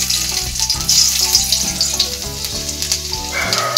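Garlic frying in hot oil for chilli paneer gives a steady, bright sizzle throughout, with faint low tonal sounds running underneath.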